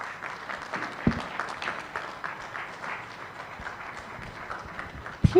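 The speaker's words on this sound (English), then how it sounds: "Please let us give another resounding round of applause for the special advisor to the Executive Governor of Lagos State" A conference audience at a real estate discussions and awards event applauds after a speech, with soft, dense clapping from a room of people, fairly distant, and a couple of sharper knocks.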